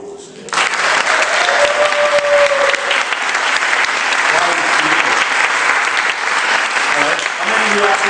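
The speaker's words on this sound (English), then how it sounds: "you've got to give me a round of applause" A church congregation bursts into loud, sustained applause that begins abruptly and carries on steadily to the end, a dense wash of many hands clapping with a few voices faintly underneath.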